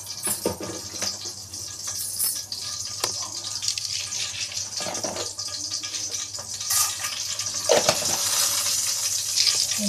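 Mustard seeds and urad dal fry in hot oil, a continuous close sizzle with bursts of crackling and occasional sharp pops, moderately loud and steady.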